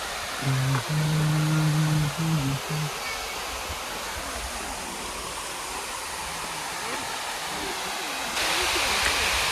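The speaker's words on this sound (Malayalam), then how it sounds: "ഈ ഡാമിൽ നിറയുന്ന ഓവർഫ്ലോ വെള്ളം ഇതിൽ കൂടെ ഒരു കനാൽ വഴി എന്ന് തോന്നുന്നുണ്ട്" Overflow water from a dam rushes steadily through a canal in Coorg, a continuous broad roar that grows a little louder near the end, with a brief low hum near the start.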